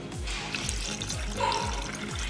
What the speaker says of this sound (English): I'm just gonna put water on it